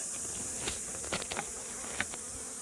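Honeybees buzz around an open hive during an inspection, a steady insect drone with a few individual bees passing close, no talking.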